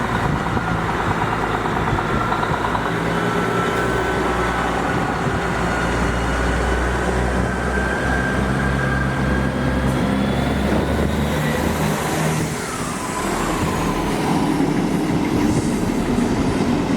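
A Class 158 diesel unit, 158868, runs from Cowdenbeath toward Edinburgh Waverley near South Gyle, its engine droning steadily under rolling wheel noise and rail clatter, loud and close throughout with a shifting pitch late on.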